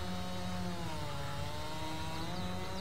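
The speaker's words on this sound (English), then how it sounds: "what I'm going to do is cut these down with a chainsaw" Chainsaw cutting down oak trees in Farming Simulator 22: a continuous, dense buzzing engine roar held at steady loudness throughout, close and unbroken.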